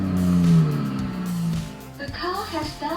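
A BMC Beast kids' ride-on car switching on and playing its start-up engine sound, a synthetic revving tone that sweeps downward and settles, followed by electronic chimes, all close and fairly loud.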